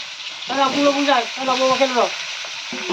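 Potato pieces drop into hot oil for a fish curry with koi, magur and shingi fish and brinjal, giving a steady close sizzle and frying crackle while voices speak briefly over it.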